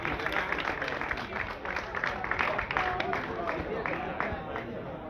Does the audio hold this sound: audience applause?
yes